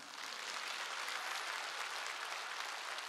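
A church congregation applauding, a dense, even wash of many hands clapping that holds steady throughout.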